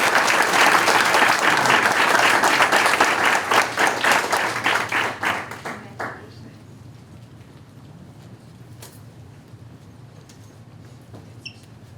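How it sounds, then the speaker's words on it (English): An audience at a Florence city council meeting applauds loudly in a dense, sustained burst of clapping that gradually thins out and fades to quiet room tone after about six seconds. "can we give them a round of applause?"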